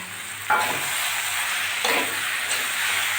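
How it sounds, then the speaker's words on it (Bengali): Potato, bitter gourd and pumpkin sizzle as they fry in a pan, a steady close hiss with a few scraping stirs of the spatula breaking in, and no talking. "আমি আর একটু ভাজা ভাজা করে নেব"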